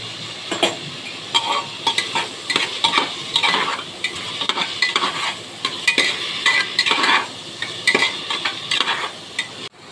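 Tomatoes and salt fry in a pan for pav bhaji while a spoon stirs vigorously, giving rhythmic close scraping strokes over a steady sizzle, with occasional light clinks of metal, and no voices.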